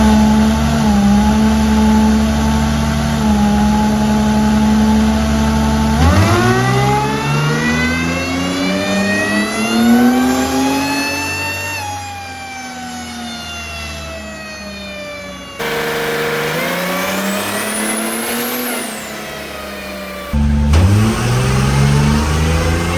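A 1952 GMC truck fitted with a supercharged Mercedes diesel engine revs hard and loud, climbing in pitch again and again with a rising whine on top, close by with no talk.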